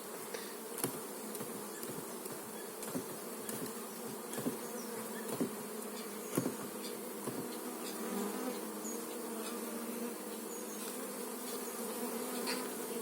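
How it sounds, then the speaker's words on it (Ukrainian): Honey bees being shaken off a hive frame while making a split: a dense, continuous close buzz of many insects with scattered soft knocks and taps from handling the frame. "Цієї ну рамки і вирішив струсити бжоли."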